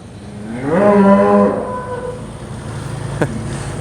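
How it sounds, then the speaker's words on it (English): A single long, loud cow moo with a rising, drawn-out tone, followed by quieter background noise and a brief knock. "So we've got 4 mama cows with babies that's coming in."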